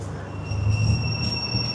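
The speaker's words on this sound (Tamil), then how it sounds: "ட்ரெயின் வந்துடுச்சு." A train pulls into a station in Sri Lanka, bringing a low rumble of rolling wheels with a thin, steady high squeal of metal running through it, moderately loud and continuous.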